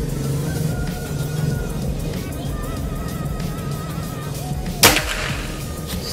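A single sharp shot from a folding-stock Predator air rifle cracks out near the end, over steady outdoor background noise.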